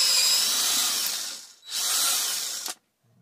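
A drill bores through metal held in front of steel backing plate, two long loud whining passes split by a brief pause, then cuts off abruptly, heard alone and close.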